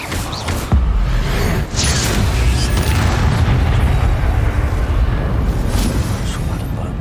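An Incendio fire spell blasts in a Harry Potter video game, a loud roaring whoosh with an early burst followed by sustained crackling rumble throughout.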